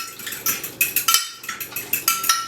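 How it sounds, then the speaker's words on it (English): Fork clinking rapidly against a bowl while eggs are whisked, a quick uneven run of close, bright metallic taps with no talking. "with a fork. You're going to whisk it up."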